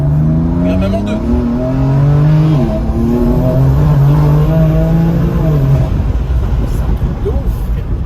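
A car engine roars and climbs through the revs, then drops away as the car brakes hard on ceramic brakes. The engine is loud and close throughout, with a steady rushing background.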